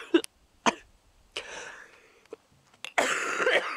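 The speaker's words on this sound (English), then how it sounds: "That's when my cough gets really bad." A woman coughs in a string of harsh, separate bursts with short pauses between them, ending in a longer, rougher fit, close and loud with no speech.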